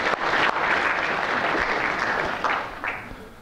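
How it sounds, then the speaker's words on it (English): A room full of people claps steadily for several seconds at a university lecture, a dense patter that slowly tapers off. "let's give an early but not premature round of applause to the course staff"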